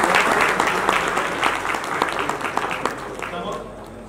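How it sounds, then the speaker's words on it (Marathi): Audience applause for an official accepting an award at a district planning committee ceremony: dense, loud clapping that slowly thins and fades, with a voice faintly underneath. "आपण टाळ्या वाजवून त्याचं कौतुक करूया."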